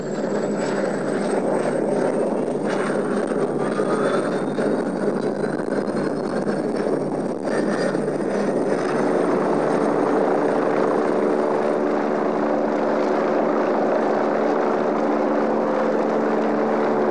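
Steady roar of helicopter engines and whirring rotors preparing in Antarctica, loud and close, with a rising whine layered over the continuous drone.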